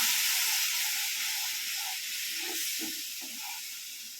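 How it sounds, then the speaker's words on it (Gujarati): Milk poured into hot, roasted semolina for rava shiro gives a loud, continuous steamy hiss that slowly fades, with faint bubbling underneath and no talking. "એમાં આપણે જોતું એટલું દૂધ નાખી આપણે એમાં પછી હલાવશું સારી રીતે"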